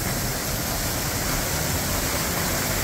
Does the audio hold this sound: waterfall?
yes